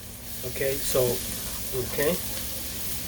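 Freshly minced garlic, six cloves, sizzles in a pan as a steady frying hiss with occasional stirring, heard close under a person talking.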